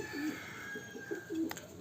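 Soft, low cooing from racing pigeons, several short murmuring coos in a row, close by in a quiet space.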